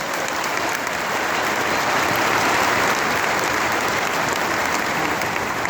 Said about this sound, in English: So a round of applause for Eric Piatkowski.